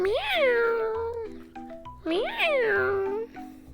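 A person imitates a cat meowing, two long drawn-out rising-and-falling meows with a raspy, husky tone, loud and close.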